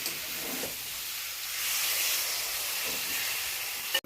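Water poured into a pan of cooking curry sends up a soft, steady hiss of steam and sizzle, close and fairly quiet, swelling slightly midway and ending with a brief clunk.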